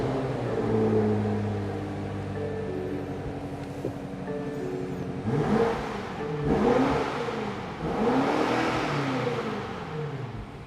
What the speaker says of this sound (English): It sucks that you can't put it in sport while you're revving it, but it still sounds pretty nice.